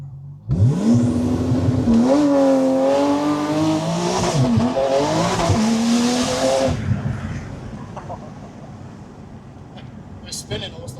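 A McLaren 750S or Porsche GT2 RS at high power, engine note climbing hard as the tires spin and squeal for several seconds, then fading away with faint clicks after.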